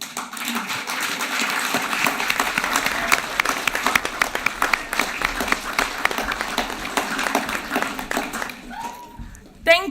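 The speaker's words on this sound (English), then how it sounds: "And let's give a round of applause" An audience at a university graduation ceremony gives a standing round of applause, a dense steady crowd of clapping lasting most of ten seconds, with a few louder individual claps and a voice near the end.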